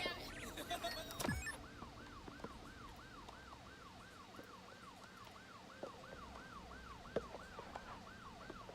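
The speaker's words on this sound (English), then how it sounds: "I wonder why the sirens are going off like that." Emergency vehicle sirens wail in the Cities Skylines 2 city-building game, sweeping up and down in a steady repeating rise and fall over a low background. One brief louder sweep comes near the start.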